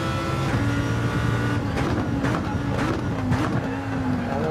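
A race car engine in Gran Turismo 7 drones steadily under acceleration, its pitch wavering and climbing through gear changes, with tire noise and faint background talk.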